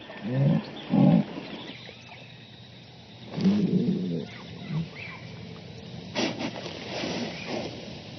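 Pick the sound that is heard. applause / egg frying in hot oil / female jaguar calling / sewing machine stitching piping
female jaguar calling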